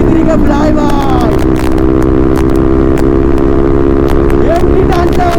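A Yamaha R15 V3 motorcycle engine revs hard while racing, its loud buzzing drone steady and close with rising and falling pitch, and excited voices talk over it.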